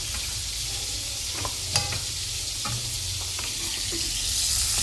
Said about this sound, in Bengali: মাছটা ভাজা হোক তো মাছটা ভাজা হয়ে গেছে